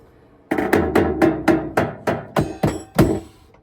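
A drum kit plays about ten rapid, evenly spaced, punchy hits in a blast-beat style for extreme metal, close and unaccompanied.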